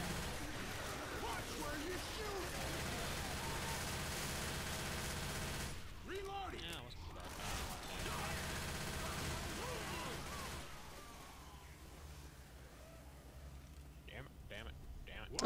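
Rapid gunfire from the Left 4 Dead 2 video game plays as a steady, dense background rattle that breaks off briefly midway. Players talk over it and keep talking once it fades.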